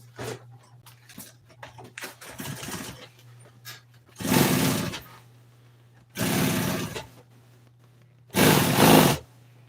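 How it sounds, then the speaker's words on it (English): A sewing machine stitches a cover for an old Toyota seat in three loud, steady bursts of about two seconds each, with a low hum and quieter handling noises between runs. "I got to sew this across here."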